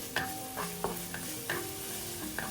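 Shiitake mushrooms with garlic and sauce being tossed in a wok, a soft sizzle under periodic spatula scrapes and taps, fairly quiet and close, without speech.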